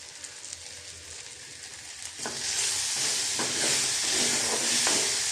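Capsicum, tomato and potato curry cooking in a pan, a quiet start giving way to a steady loud sizzle and hiss with occasional stirring scrapes, no voices.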